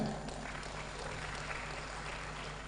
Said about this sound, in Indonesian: kalau kita memberi aplaus kepada MC kita ya